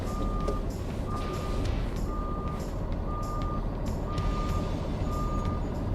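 A Peterbilt 536 truck's engine rumbles steadily and close by while its reversing alarm repeats a regular, evenly spaced beep throughout.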